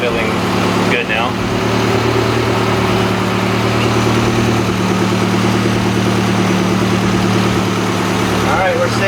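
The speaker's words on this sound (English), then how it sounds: "Seems like it's idling good now." A Toyota MR2 race car engine idles close by with a steady, lumpy low rumble, holding a constant note throughout with brief background noises near the start and end.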